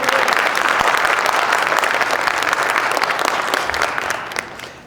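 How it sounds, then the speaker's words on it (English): An indoor audience at a business training session claps loudly and continuously, a dense wash of applause that starts at full strength and slowly fades toward the end. "Let's see how many people clap for you"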